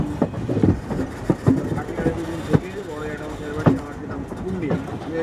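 A Gour Link express train shunting into platform 1 at Malda Town station, with irregular metallic clanks and rumbling wagon noise close by, under steady voices talking throughout.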